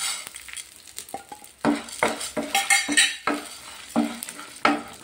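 Urad dal and dried chillies fry in a pan while a spoon stirs and scrapes against the metal, giving repeated clinks and scrapes over a steady sizzle, close and fairly loud.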